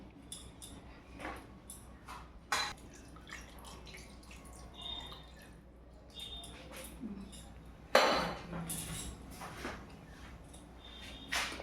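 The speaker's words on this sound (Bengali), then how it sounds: "একটু জল দিলাম" Water is poured into a pan of simmering dhokar dalna curry in one short splash. Quiet clinks of utensils come before and after it, and the whole scene is close and soft.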